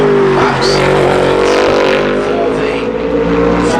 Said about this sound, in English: Ford Mustang.